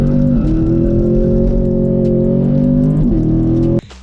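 A 2021 Chevrolet Camaro SS with aftermarket intake manifold, throttle body and intake, accelerating hard from 0 to 60, its engine a loud rising roar broken by two quick gear shifts before cutting off abruptly.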